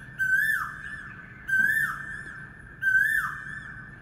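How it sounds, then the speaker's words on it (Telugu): An Asian koel calls from a balcony, three loud, clear rising whistled notes evenly spaced about a second and a half apart over a quiet background hum. "బాల్కనీలోకి వెళ్ళి కోయిల అరుస్తూ ఉంటే వీడియో తీసా."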